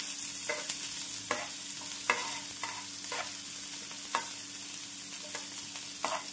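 Onions and finely chopped green chillies fry in a pan for instant bun dosa, a soft steady sizzle broken by repeated scrapes and taps of a spatula, with no speech.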